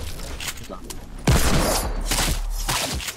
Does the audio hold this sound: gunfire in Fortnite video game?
yes